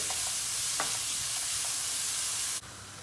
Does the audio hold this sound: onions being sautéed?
yes